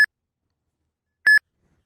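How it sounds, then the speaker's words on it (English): Two short, high electronic beeps from a phone signalling an Uber trip request, about a second apart, clear against silence. "Your phone will start beeping, and the screen will flash."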